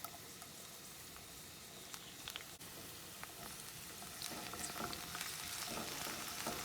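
Green onions and garlic fry in hot oil for an artichoke heart pasta, making a soft, continuous crackling sizzle with scattered pops that grows slightly busier toward the end, with no voices.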